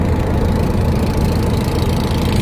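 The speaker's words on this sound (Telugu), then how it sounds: "అక్కడ ఫిక్స్ చేసుకుని మోటార్ బోట్లో వెళ్తారనమాట." A motor boat engine idles on Tonle Sap Lake near a floating village in Cambodia, a steady, loud, low rumbling drone that holds without break throughout.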